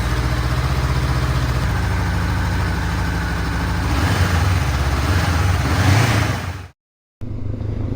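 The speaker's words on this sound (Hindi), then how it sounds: "तो चलें बाइक पे निकलते हैं और देखते हैं ब्रैम्पटन सिटी।" A motorcycle engine idles close by on a city street in Brampton, Ontario, a steady rumbling drone that swells slightly before cutting out abruptly, then resumes.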